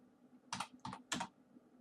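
Three quick bursts of computer keyboard typing, close and fairly quiet, with short pauses between them over a low background hum.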